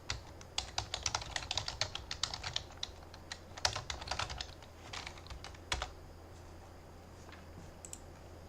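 Keys clatter on a computer keyboard as code is typed, in brisk bursts of crisp clicks with short gaps, close and moderately loud, tapering to a few scattered taps near the end with no speech.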